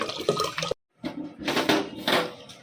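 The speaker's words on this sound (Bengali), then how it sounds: "চালটা ভিজিয়ে দিচ্ছি, অল্প চাল দিয়েছি" Water poured over rice in a pot to soak it, a close splashing, gushing pour that stops briefly and then resumes in a couple of noisy bursts, no talking.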